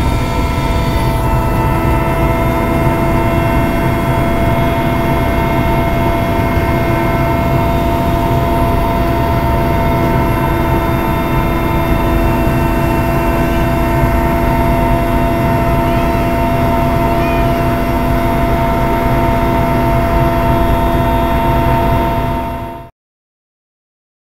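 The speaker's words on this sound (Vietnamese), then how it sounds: "đây đang từ từ à, đáp xuống à, sân bay Vũng Tàu đây" A helicopter descends to land at Vung Tau airport, its loud, steady engine and rotor drone filling the cabin close by without a break before cutting off abruptly at the end. No one speaks.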